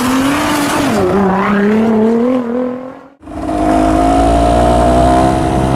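A 1991 Honda CRM 125 two-stroke motorcycle is ridden close up, its loud engine rising and falling through revs, cutting out briefly mid-ride, then pulling hard again with a steady high drone.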